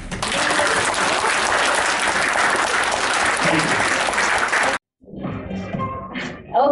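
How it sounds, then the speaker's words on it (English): Loud, dense audience applause fills a hall at an induction ceremony for new officers, cutting off sharply near the end, followed by quieter room noise and a brief burst of sound. "let's give ourselves an applause"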